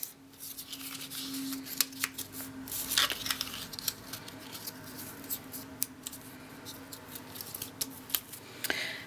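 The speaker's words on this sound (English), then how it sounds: "now we can go ahead and fold on all of our score lines" Paper is creased and folded along scored lines to form a small gift box, giving soft crinkling, rubbing and crisp snapping sounds close up, irregular and fairly quiet.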